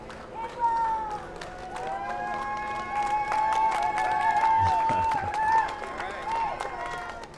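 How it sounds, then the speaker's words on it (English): A small crowd at Kennedy Space Center cheers and claps for departing NASA astronauts, steady applause and shouts carrying throughout beneath a continuous commentator's voice. "Small crowd, but big cheers."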